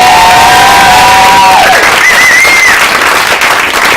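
A comedy club audience applauds a comedian with loud, continuous clapping and cheering, with a few whistles rising above the crowd noise.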